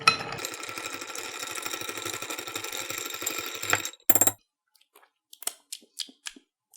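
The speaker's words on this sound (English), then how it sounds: "And we're going to add our ice and mix it for about 20 to 30 seconds." Ice rattles and clinks in a mixing glass as a cocktail is stirred with a bar spoon, a busy, continuous close-up clatter for several seconds, then a few scattered clinks after it stops.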